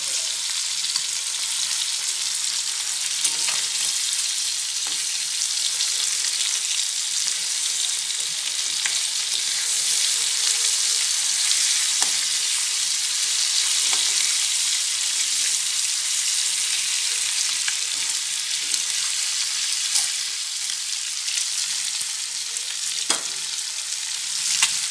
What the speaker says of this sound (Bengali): একটু ডিমগুলো লাল লাল করে ভেজে নিই।